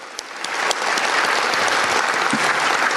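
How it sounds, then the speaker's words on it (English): Crowd at a political rally for Rep. Bridenstine breaks into loud, sustained applause, a dense wash of clapping that swells quickly after a few early claps and holds steady throughout. "So I want to give them a big round of applause for coming out and giving of their time."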